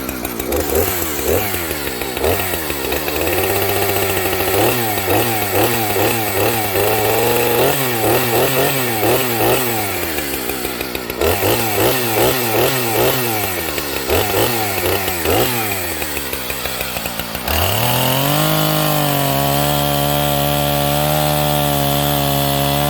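A chainsaw bucks wood, with a loud, rough, pulsing motor roar that rises and falls in repeated bursts as it bites into the log. Near the end it settles into a steadier idle drone.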